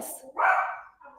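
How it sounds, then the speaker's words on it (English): A dog barks once, loud and fairly close, in a home right after someone arrives at the door, with a brief fainter yelp trailing after it. "we'll have some barking in the background"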